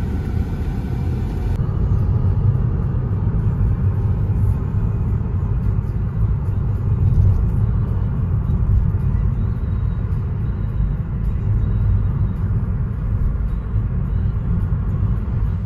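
A car driving along a road in Korea, heard from inside as a steady low engine and tyre rumble, constant and fairly loud with no talking.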